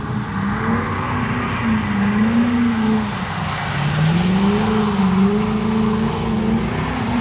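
A drift car slides sideways around the banked track at Evergreen Speedway during a Halloween open drift contest, its engine droning loud and close, pitch wavering up and down over a constant roar of tires.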